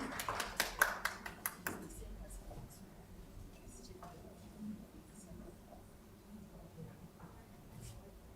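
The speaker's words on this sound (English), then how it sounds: "give Cecilia a big round of applause" A short burst of clapping from a conference audience greets a presenter, loud for about two seconds and then fading into quiet room tone.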